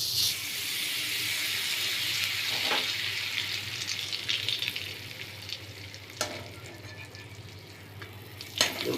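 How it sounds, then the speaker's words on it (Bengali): Papad slices are fried one by one in hot oil in a wok, giving a steady, close sizzling hiss with occasional crackles and soft stirring clinks. "এখন চুলায় কড়াই বসিয়ে তেল দিয়ে পাঁপড়গুলি এক এক করে ভেজে নিব"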